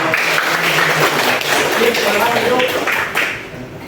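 A school class clapping together in a classroom, brisk applause mixed with students' chatter and voices, fading near the end.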